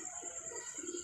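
A pigeon, a prized commando-bred bird, coos softly in low repeated pulses under a steady high-pitched background hum, close but quiet.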